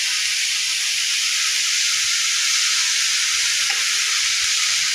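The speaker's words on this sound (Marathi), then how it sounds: "ते असे हलवून घ्यायचे आहे" Beetroot halwa cooking in a pan, a dense, even, high sizzling hiss that holds steady at close range with faint stirring beneath it and no voices.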